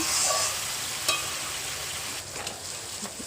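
Vegetables and pieces being stirred in hot oil in a pan for a katla fish curry with data stems and potatoes: steady, close sizzling frying with a few brief scraping stir sounds, continuous throughout and no talk.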